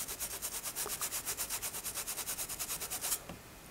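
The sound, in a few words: toothbrush scrubbing a phone IC with cleaning chemical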